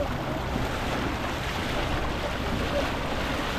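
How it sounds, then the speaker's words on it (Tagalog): Strong current of a river rushing over an old dam in Taiwan, a steady, dense roar of water close to the microphone with wind buffeting, continuous and unbroken with no voices. "Ang lakas ng tubig ngayon"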